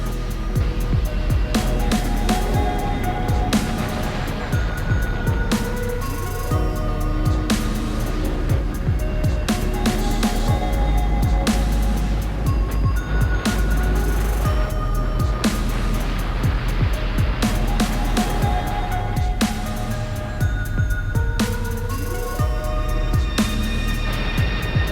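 A motorcycle engine revs and accelerates on an open road trip through the Massif Central, with its rising and falling tone running continuously under a constant rush of wind, close and loud.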